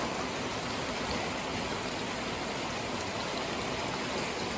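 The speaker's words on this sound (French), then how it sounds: "impressionnant encore comme averse" A heavy rain shower pours down in a steady, dense hiss with no let-up, loud and close, with no voices.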